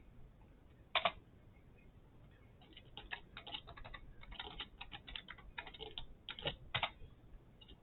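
Someone types on a computer keyboard while changing a Raspberry Pi user password, producing faint, irregular key clicks and taps in a quiet room with a few louder isolated strokes.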